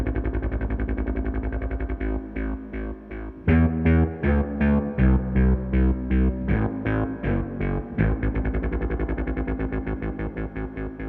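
Boss SY-1 guitar synth pedal running a sequencer with reverb off, a dry, buzzy synth line stepping in rapid rhythmic notes that shift pitch pattern midway, loud and alone with no talk.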